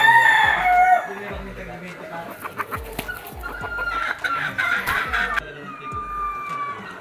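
A lemon straight-comb gamefowl rooster crows at a game farm, its calls rising over other clucking and crowing birds nearby, with some background talk.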